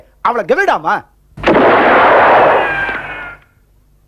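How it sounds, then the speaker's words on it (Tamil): A single loud gunshot fired on stage during a Tamil comedy play, a sharp blast with a long, fading rumble that follows a short spoken line. "மறுபடியும் சுடுறது"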